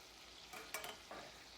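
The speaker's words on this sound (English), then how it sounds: "You're gonna let it sizzle, let it stay." Teriyaki chicken sizzling in oil in a pan, a faint steady hiss with a few brief crackling bursts, heard close and quiet without any talking.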